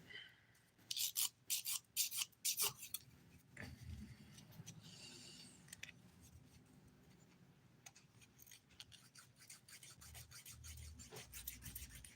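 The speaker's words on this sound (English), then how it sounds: "all I need to do is smooth it a tad with the 180 grit file" A 180-grit nail file smoothing a chunky glitter dip-powder nail, heard as a few close, quick rasping strokes at the start, then quieter faint scraping and handling noise.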